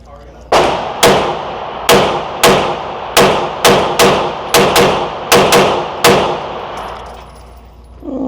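Pistol shots from an HK VP9 with an upgraded trigger, fired with cheap range ammo: nine sharp, loud reports at irregular intervals, each with a short ringing tail, and a slide that failed to lock back.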